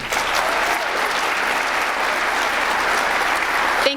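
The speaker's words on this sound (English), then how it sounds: "Let's give one more round of applause for Anissa." An audience at a State of the City address claps in a sustained, dense round of applause, loud and even from start to finish.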